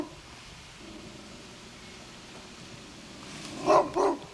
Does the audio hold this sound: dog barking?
yes